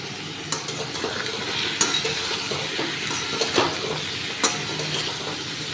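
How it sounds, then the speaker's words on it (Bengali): A spoon stirs food frying in a pan with salt, turmeric and a little sugar, giving close, steady sizzling broken by regular scraping and light clinks of metal against the pan. "এবারে দেখছি কিছুক্ষণ একটু নাড়িয়ে নিচ্ছি"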